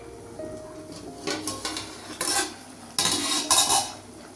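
A metal lid is lifted off a cooking pot of taro root curry with a few sharp clanks and rattles, then a brief scrape of utensils against the pot.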